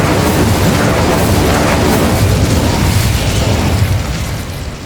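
Incendio fire spell in Hogwarts Legacy erupting as a dense, loud roaring burst of flame that sustains steadily before tapering off slightly at the end.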